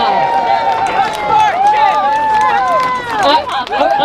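A crowd cheers and shouts at a pro-EU demonstration on an Edinburgh street, with rising and falling voices carrying steadily and fairly close throughout.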